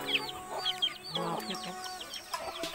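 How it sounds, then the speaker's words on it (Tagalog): Several chickens cluck and chatter close by in quick, overlapping bursts, with a few sharper squawks mixed in. "Maraming siyang alagang manok"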